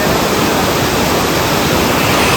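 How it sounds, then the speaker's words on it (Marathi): Shubhedar waterfall near Murbad in Thane roars with heavy, full-pressure rushing water, a loud, unbroken broadband wash close to the listener. "जबरदस्त खतरनाक वॉटरफॉल"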